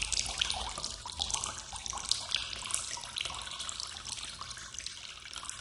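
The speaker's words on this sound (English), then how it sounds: "a very long recording of dripping water" Long, steady recording of dripping and trickling water, a dense bright splatter with constant running-water wash, close and even in level, no voices present.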